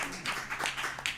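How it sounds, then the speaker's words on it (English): An audience at a Chanukah celebration claps in a short burst of applause, several close, crisp claps rising and falling over about a second. "we want to give a big round of applause for Happy Minyan"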